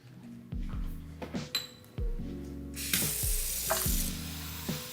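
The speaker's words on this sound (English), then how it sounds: "On the other side, we're gonna put some tap water." Tap water pours from a faucet into a container where tomatoes are being washed, a splashing stream that starts, stops and resumes, with clattering of kitchen items in between.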